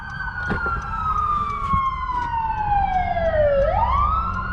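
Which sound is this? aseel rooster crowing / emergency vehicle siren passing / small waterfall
emergency vehicle siren passing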